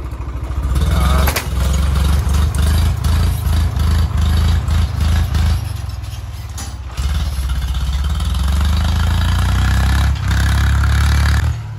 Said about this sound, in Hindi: तो यहाँ पे लगा हुआ है ट्रैक्टर इस वाले खेत में।